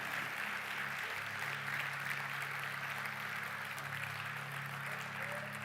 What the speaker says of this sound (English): can we give wild applause for all of our single parents in the house today?